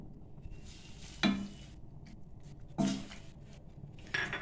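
Chicken liver, gizzards and hearts fry in a pan with grated tomato. A soft, steady sizzle runs throughout, and three louder stirring scrapes stand out close by.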